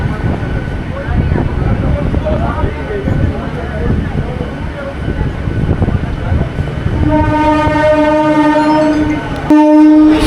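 At Uluberia station on the Kolkata to Digha line, a train rumbles loudly close by with rattling carriages, then a long horn blast sounds near the end, with people talking under the noise.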